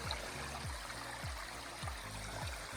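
Runoff from a hillside spills toward a large creek, giving a steady close rush and trickle of flowing water. A low rhythmic thumping repeats beneath it, and no one talks.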